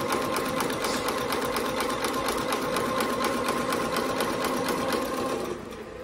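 A single-head towel embroidery machine runs a wide straight stitch with fast, rhythmic mechanical clattering close by, steady throughout before easing slightly near the end.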